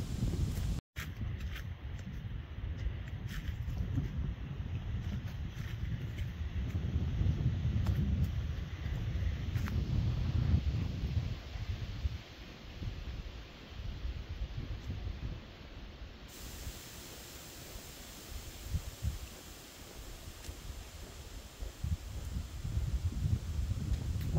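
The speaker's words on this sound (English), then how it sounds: "Listening to the wind." Steady wind rushing across a fall hiking trail on Taum Sauk Mountain, the highest point in Missouri, a broad, constant roar with gusty swells and no talk.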